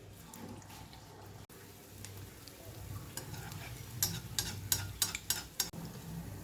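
Filled sweet potato pantua balls fry in hot oil with a low, gentle sizzle, punctuated by sharp ticking clinks of a utensil against the pan that grow busier toward the end.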